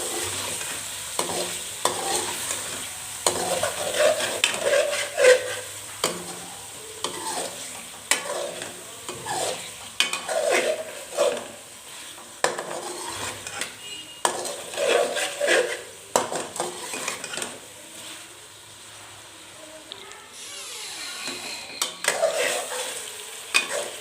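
Red chili powder and turmeric masala roast in a pan, with repeated stirring scrapes and clinks of a spoon over a soft, continuous sizzle, heard up close and alone.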